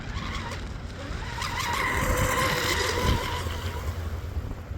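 A small MHZ 655mm RC hydroplane powerboat skims across a pond in a steady, high-pitched motor whine with water hiss, holding a continuous loud drone that swells slightly midway, with no voices.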